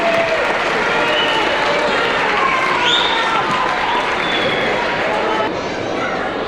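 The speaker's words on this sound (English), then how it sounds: "Please give a big round of applause to our high school band" Audience applause for a high school band at a winter concert, a steady dense wash of clapping mixed with crowd murmur and a few voices, loud and continuous throughout.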